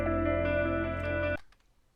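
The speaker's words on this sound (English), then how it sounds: "And if I take the low end out, it sounds like this." A short burst of an FL Studio electronic beat plays loud and steady with heavy bass still present under bright synth layers, then cuts off sharply into near silence.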